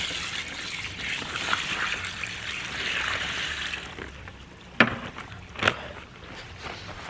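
Dirty water trickles and splashes steadily as it drains out of a koi pond after a leak test, a continuous watery wash with two sharper splashes near the end.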